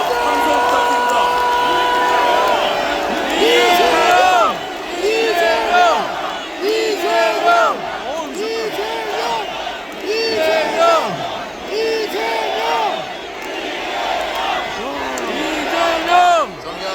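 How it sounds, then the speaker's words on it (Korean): A large crowd at a Democratic Party political rally for leader Lee Jae-myung cheers and shouts in waves, with voices calling out loudly and overlapping chant-like tones rising and falling. "여러분 박수와 함성 부탁드립니다"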